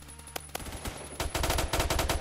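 Rapid automatic gunfire in Phantom Forces, starting with a couple of sharp single shots and then a dense, close, loud burst.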